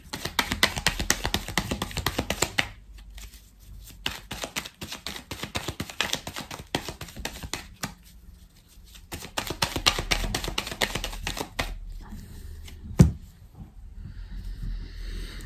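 Tarot cards being cut and shuffled by hand, a dense run of quick crisp riffling taps in bursts separated by brief pauses, close and clear with no talking.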